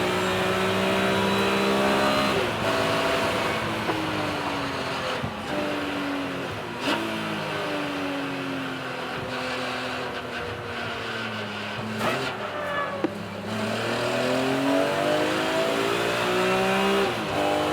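BMW race cars lap Donington Park circuit, engines rising and falling in repeated revving sweeps as cars pass and shift gears, a continuous loud racing drone from trackside.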